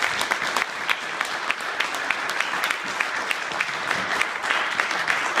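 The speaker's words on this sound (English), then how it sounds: "anybody else? A round of applause." An audience at a Rotary gathering honoring a Rensselaer football head coach gives a round of applause, a full, crackling burst of many hands clapping with sharp individual claps standing out, continuing steadily throughout.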